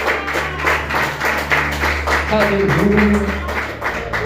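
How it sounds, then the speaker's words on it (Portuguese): Rhythmic clapping from a congregation at an evangelical church service, steady and fairly loud, mixed with voices and sustained background music. "Então dá uma linda salva de palmas para Ele"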